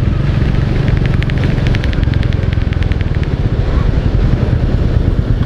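A Royal Enfield Meteor 350 motorcycle ridden over a rough road: a loud, steady engine thump with a rattling clatter from the ride, close and continuous throughout.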